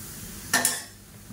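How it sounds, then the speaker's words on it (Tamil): A spoon stirring food frying in oil in a pan while making Diwali sweets or savouries, with a single short burst of scraping and clinking partway through amid faint background hiss. "இப்போ மறுபடியும் கிளறிக்கலாம்."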